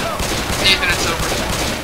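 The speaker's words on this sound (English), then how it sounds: "You have to shoot it with a pistol." Pistol gunshots in the video game Left 4 Dead 2 crack in a quick string of shots over dense in-game noise.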